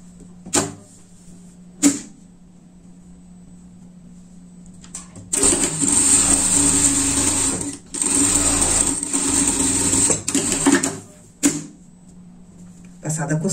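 A sewing machine stitches a seam on a wool pet sweater, with close steady whirring runs broken by short pauses, and someone speaking Portuguese in between.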